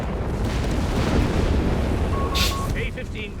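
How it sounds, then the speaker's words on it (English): Booming British howitzer artillery fire in Company of Heroes 3, a rumbling sequence of heavy blasts rolling across the battlefield under a commentator's voice, with fainter battlefield noise trailing off. "Got more howitzer fire here. More British artillery."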